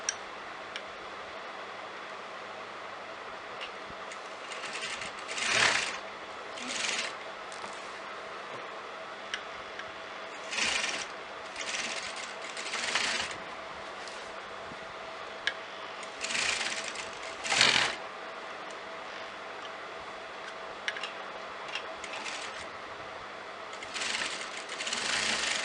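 A sewing machine stitching lace onto kameez fabric runs in several short bursts of rapid mechanical whirring and ticking, separated by quieter pauses with a faint background hum.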